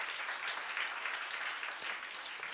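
A church congregation applauds, dense steady clapping from many hands filling the space, moderately loud with no speech.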